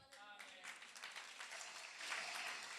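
Church audience clapping, a soft, distant patter of many hands that swells toward the end after a brief voice at the start.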